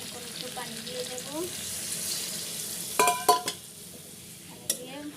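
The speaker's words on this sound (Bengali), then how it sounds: "পানি দিয়ে নাড়াচাড়া করে" A dried fish curry with stems and potato is stirred in a pan after water goes in, a soft bubbling sizzle under a few clear metal clinks and scrapes from the spoon against the pan.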